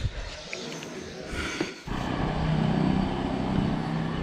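A KTM Duke 200 motorcycle rides off, its steady engine drone rising after a brief quieter start and holding loud and close over road and wind noise.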